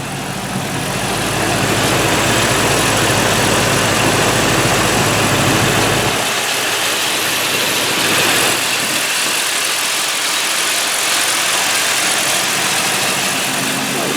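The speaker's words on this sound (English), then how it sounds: "The motor sounds pretty happy to me." A 1977 Mercury Marquis engine idles steadily, a low continuous hum that drops to a deeper, quieter purr partway through.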